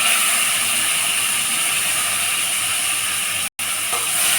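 Chopped onion sizzles with whole spices in hot oil, including bay leaf, cumin seeds, cardamom, cinnamon and cloves, giving a loud, close, steady hiss that breaks off once in a brief gap before resuming.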